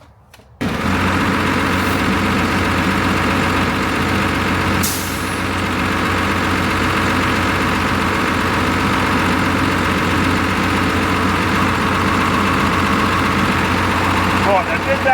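A car engine on a vehicle with faulty brakes catches after a brief crank and settles into a loud, steady idle that rumbles on close by for the rest of the clip.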